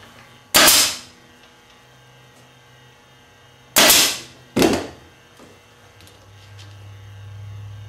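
A pneumatic staple gun drives staples into the wooden rail of a horsehair and leather upholstery job: three sharp, loud pops, one alone and then a quick pair, over a low steady hum.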